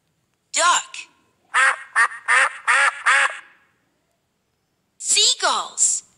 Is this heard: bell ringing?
no